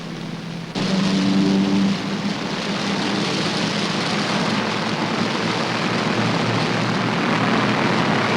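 Wartime aircraft flying overhead, heard as a loud, steady roaring drone that swells in at the start and holds as a dense wash of engine noise with no voices.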